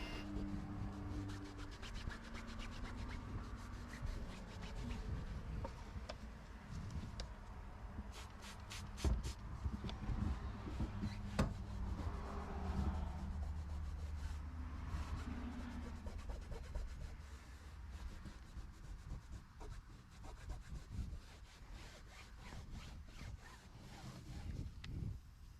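Soft rubbing and scrubbing of a microfiber towel against a car's cloth headliner, repeated back-and-forth strokes with occasional scratches and handling noises, close and quiet throughout.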